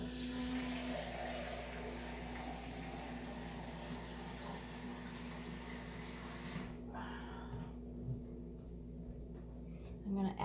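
Filtered water pours steadily into a measuring cup for homemade almond milk, a soft continuous stream that stops abruptly after several seconds, followed by quiet kitchen handling sounds.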